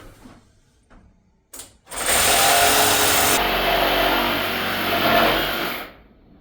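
A power tool cuts up old timber during a rebuild of an abandoned historic building. After a quiet start it roars in loud and close, a harsh saw-like whine that holds steady for about four seconds before cutting off.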